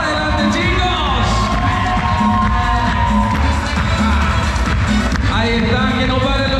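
Wedding guests cheer, whoop and shout in a loud, continuous crowd roar, with music or tonal sounds running underneath and voices calling out throughout.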